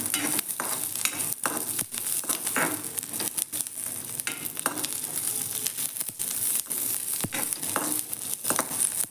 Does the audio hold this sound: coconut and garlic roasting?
yes